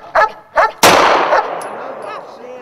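A firearm shot outdoors: one loud, close blast with a long rolling echo, after a couple of short voice bursts.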